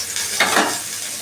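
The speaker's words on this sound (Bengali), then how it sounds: "তেল দিয়ে দিচ্ছি, সোয়াবিনটা আমি ভেজে দিই।" Soybean chunks frying in hot oil, a brief sizzle and crackle with a stirring scrape, close and alone.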